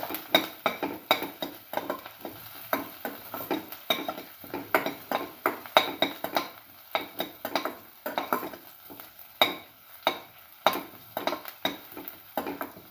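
Food is stirred steadily in a pan, with a utensil scraping and clinking against the metal in quick, uneven strokes. The close, busy rhythm continues with almost no pause, and no one talks.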